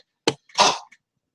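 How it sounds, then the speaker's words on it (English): A child with a cold gives a short cough followed by a longer, rough second cough, close and fairly loud, with silence around them. "That's my son coughing in the background."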